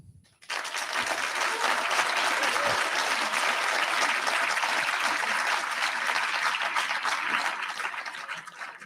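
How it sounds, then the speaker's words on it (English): After a brief quiet start, a summit audience breaks into sustained applause for the hosts, dense clapping from a large room that stays steady for about eight seconds. "And may I get a big applause for them?"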